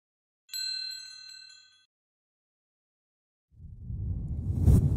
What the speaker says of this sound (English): Excuse me, phone.